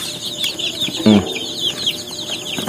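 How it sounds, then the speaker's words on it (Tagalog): Young chicks on a farm chirp in a steady run of high, rapid peeps that overlap one another close by, with a brief lower cluck partway through. "ito na yung ating mga sisiw"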